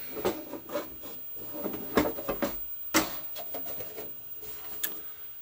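A Tandy 1000HD computer case is pushed forward and slides off its chassis, a series of faint scraping and rubbing knocks with a few sharper plastic clacks, close and quiet.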